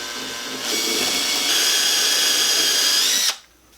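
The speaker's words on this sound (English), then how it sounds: "that's a 1/4 inch drill bit I was using" A power drill with a 1/4 inch brad point bit boring into wood on a ukulele kit neck, a steady high motor whine that rises as the bit spins up, holds for about three seconds, then stops abruptly.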